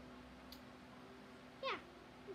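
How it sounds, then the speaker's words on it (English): A pet cat gives a single short meow indoors at moderate distance, alone against a steady low background hum, with a faint chirp just after. "That's my cat."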